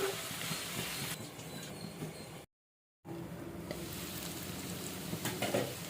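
Bottle gourd, tomato and tamarind cook in oil with a steady sizzle and occasional stirring scrapes, continuing throughout apart from a brief silent gap midway.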